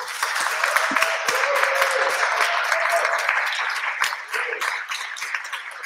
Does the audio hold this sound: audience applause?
yes